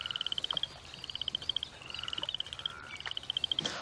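Frogs at a recreated pond give rapid, rattling trilled croaks in repeated close bursts, one series after another, with a faint outdoor background and no talk.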